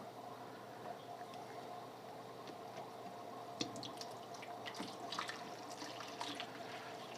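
Water is drawn to refill a fish tank: a faint, continuous trickle with scattered small drips and splashes, quiet and even throughout.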